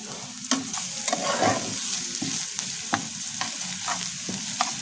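Carrots and beans being stirred in hot oil, a loud close sizzle broken by repeated spatula scrapes and knocks against the pan at an irregular, busy rhythm.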